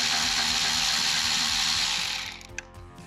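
A ratchet clicks rapidly and steadily while backing out a single 10 mm bolt on a 2019-2023 Duramax 3.0L diesel, close and loud, slowing and stopping near the end with a few light metallic knocks.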